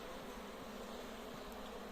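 Steady, dense buzzing of many honeybees close by at a hive being smoked, a continuous droning hum with no pauses.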